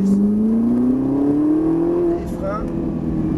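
Ferrari 458 Italia engine accelerating on track, a loud rising tone climbing steadily for about two seconds before dropping back, with a voice talking over it.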